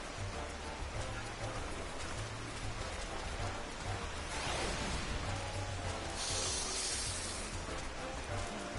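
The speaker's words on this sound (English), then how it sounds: "The rain washed everyone away." Continuous rainfall in Final Fantasy XIV pours as a dense, even hiss of drops on surfaces, steady across the whole stretch with a brief brighter swell midway and no talking.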